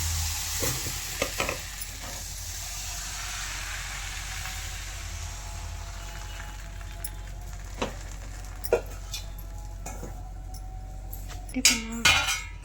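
Appam batter poured into a hot appam pan for a dinner of appam with coconut milk, giving a steady low sizzle with a few clinks and scrapes from utensils near the end.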